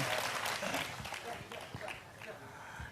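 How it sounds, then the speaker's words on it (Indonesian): Audience applause at a Cak Nun and Kiai Kanjeng gathering in Blora, a steady wash of many hands clapping that fades slightly toward the end. "Tepuk tangan, sangat bagus"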